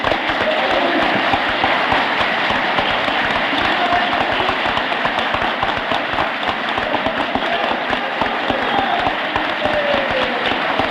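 A large crowd at a 1958 political assembly in Bamako applauds to adopt a resolution by acclamation, a dense, steady roar of clapping that fills the whole stretch at a constant loud level.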